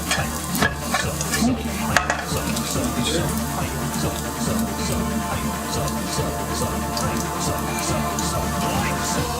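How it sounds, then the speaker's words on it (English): Flour being stirred into frying sausage in a pan for country gravy: continuous sizzling with repeated scraping stirs, close and steady, with a few brief clinks and no talk. "We're adding some flour to the sausage."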